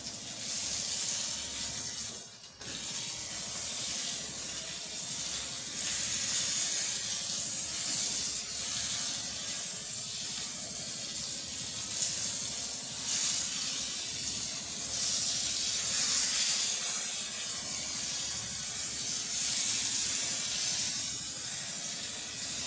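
Fish frying in a pan, heavily peppered and turned over to cook the other side, giving a steady, fairly loud hiss and sizzle that carries on unbroken with no talk over it.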